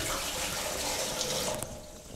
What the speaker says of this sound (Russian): первое ведро пошло.